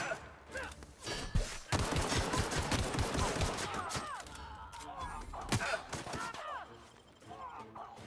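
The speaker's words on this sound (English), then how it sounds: "I think that's just a gun." Scattered gunfire and heavy thumps from combat in The Outer Worlds, sharp bursts spread across several seconds among game ambience, with a voice talking over parts of it.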